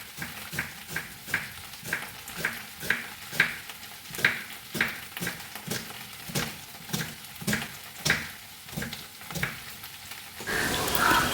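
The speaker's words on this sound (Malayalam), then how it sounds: "ഇനി ഒന്നുകൂടി ഇളക്കാം." Okra masala curry stirred in a pan, a quick regular series of spatula scrapes over a low sizzle, close and even, ending in a louder burst of hiss.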